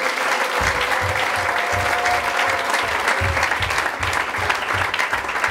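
A church congregation claps steadily through the whole stretch as dense, sustained applause, with a faint voice underneath.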